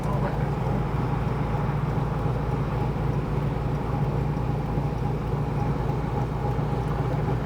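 A 1971 Camaro with a Gear Vendors overdrive heard from inside while driving, its engine a steady low rumble and drone with road noise, continuous and even throughout.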